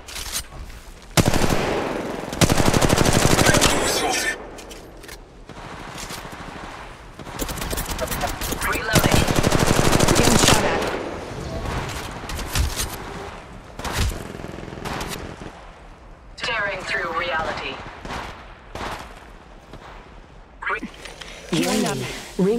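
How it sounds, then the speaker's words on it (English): Automatic weapons fire in loud, rapid bursts during an Apex Legends Mobile match, alternating with single shots and quieter gaps, while in-game voices call out over the action. "I'm taking shots. Opening fire."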